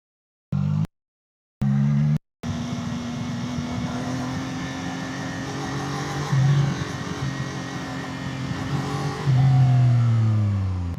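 A CFMOTO 675 SR-R sport motorcycle being ridden: short engine bursts broken by silence, then a continuous close engine drone that rises and swells with throttle.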